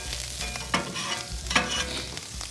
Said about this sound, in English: we'll just start browning that rice nicely